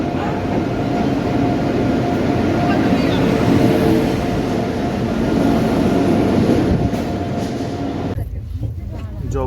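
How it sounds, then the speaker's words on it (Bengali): The 12370 Kumbh Express rolls into a station with a loud, continuous rumble and rhythmic wheel clatter close by, easing into quieter clicks near the end. "আসছে আমাদের 12370 মহাপুরুষ কুম্ভ এক্সপ্রেস"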